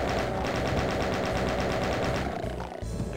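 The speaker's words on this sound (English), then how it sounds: "I think I'm gonna change to the chain gun for a minute." Chain gun in the Doom WAD Deathless firing a rapid, even burst of loud shots for over two seconds, then stopping, followed by a brief clatter of game noise.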